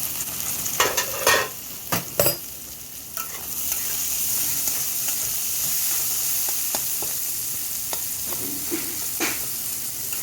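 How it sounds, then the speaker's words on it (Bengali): Mixed vegetables and beans fry in a pan with steady sizzling under a few stirring scrapes, as a spoon moves them around the pan. The scrapes come loudest near the start. "বিনসটাও দিয়ে দিচ্ছি এই সবজিগুলো ভালো করে একটুখানি ভেজে নেব"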